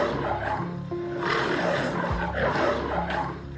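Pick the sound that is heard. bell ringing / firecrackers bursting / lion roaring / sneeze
lion roaring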